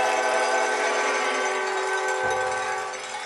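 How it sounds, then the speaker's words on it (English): A loud five-chime train horn chord holds steadily for several seconds near a football game, then begins to fade slightly toward the end. "I'm being told that's a 5-chime horn."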